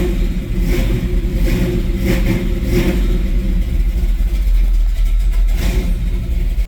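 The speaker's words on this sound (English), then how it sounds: "First drive with the big block Chevy." A big block Chevy 454 V8 fitted in a hearse runs loud and close at the start of a first drive, with a steady deep rumble and a few blips of revving throughout.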